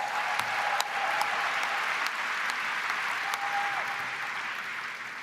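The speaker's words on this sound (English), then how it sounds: "So let's give her a round of applause." An audience at a teachers' union convention applauds steadily, a broad wash of clapping from a large crowd sustained for several seconds at even strength.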